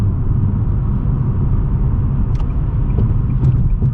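A 2020 Nissan Sentra SR heard from inside while cornering gives a loud, steady low engine and road rumble, with a few faint ticks near the end and no talking.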